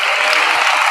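Church congregation clapping loudly, a dense continuous wash of many hands applauding together, close and steady throughout with no voices standing out.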